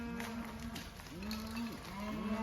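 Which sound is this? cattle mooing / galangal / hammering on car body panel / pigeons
cattle mooing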